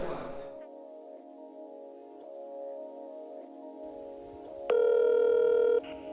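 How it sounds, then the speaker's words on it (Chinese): A telephone tone sounds in a steady hum, then a louder busy-signal beep cuts in briefly near the end. "您拨打的电话正在通话中，请稍后再拨"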